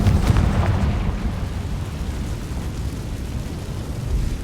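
A Confringo blasting spell from Hogwarts Legacy bursts in a loud, close fiery explosion, its deep roar sustained and rumbling throughout, with a second swell near the end and no talking.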